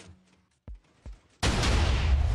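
Two deep thumps of a rail cannon firing in Minecraft, then a sudden loud, sustained roaring blast that runs to the end, close and heavy.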